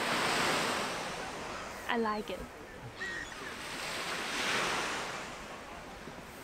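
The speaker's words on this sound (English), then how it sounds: "The sea is quite calm." Calm sea waves wash onto the beach at Sopot in a soft, steady surf roar with gentle swells and wind, a brief voice speaking over it midway.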